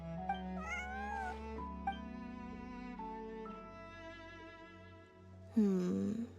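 A cat in the video game Genshin Impact meowing in short, soft calls over quiet, steady background music, with a brighter meow near the end.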